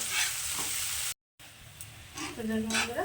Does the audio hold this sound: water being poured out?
no